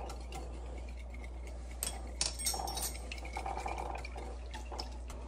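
Cake batter for a chocolate pecan pie cake is mixed in a bowl, giving faint clinks and soft scraping from the utensil. The sounds are quiet and irregular, with no talking.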